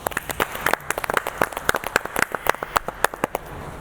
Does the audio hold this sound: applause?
yes